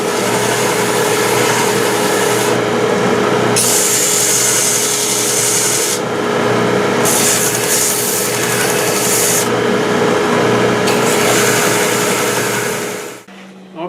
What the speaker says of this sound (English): now all it takes is just hit the belt sander on all four sides